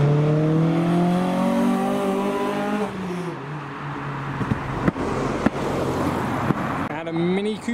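A car show drive-through: an engine's droning note drops and fades, then several sharp exhaust pops crack out one by one amid idling engines and the hiss of traffic.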